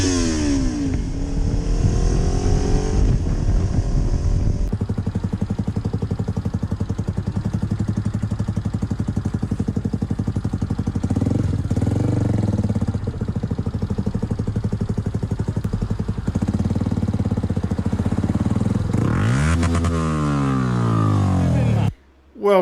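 Cars pull away from a traffic stop, heard from a motorcycle: engines rev and accelerate loudly up close, a strong engine drone underneath throughout, with a second surge of revving near the end.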